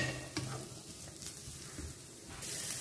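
Carrots and sweetcorn sauté in a hot pan, a steady close sizzle with a few stirring scrapes and clacks layered over it, no voices.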